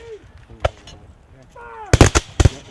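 Musket volley at a Revolutionary War re-enactment of the 1778 Battle of Monmouth: a quiet stretch with shouted commands, then a ragged burst of several loud, sharp gunshots in quick succession.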